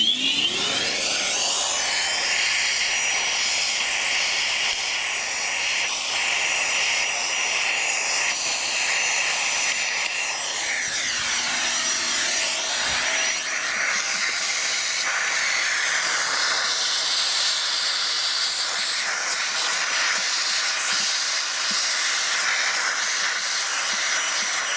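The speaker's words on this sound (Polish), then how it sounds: "To może wezmę odkurzacz," A vacuum cleaner with a narrow nozzle roars steadily at close range, its hissing suction shifting pitch as it pulls at leaves in the windscreen cowl of a Mazda CX-3.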